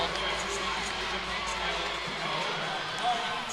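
A steady, loud crowd roar fills the PMAC arena at an NCAA women's gymnastics meet between LSU and Georgia after a beam routine. The noise carries on without a break beneath a commentator's voice.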